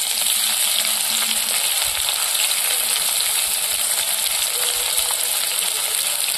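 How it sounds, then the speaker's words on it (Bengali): Chopped onion and crushed garlic frying in oil with dried chili, whole garam masala and bay leaf on a clay stove, making a loud, steady, dense crackling sizzle throughout, close by and without talk. "পেঁয়াজ রসুনটা একটু লালচে করে ভেজে নেব।"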